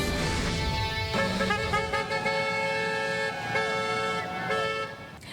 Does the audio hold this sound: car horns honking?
yes